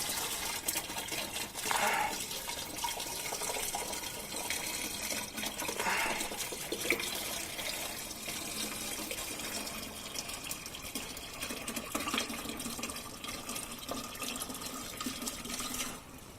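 Water poured into a two-gallon lawn sprayer jug, a steady running, gurgling fill close up with no talk over it.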